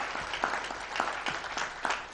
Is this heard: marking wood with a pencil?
no